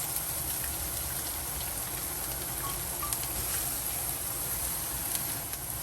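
Onion, peppers, celery and cilantro saute in olive oil for lamb fried rice, a soft, even rain-like sizzle that holds steady throughout with no talk.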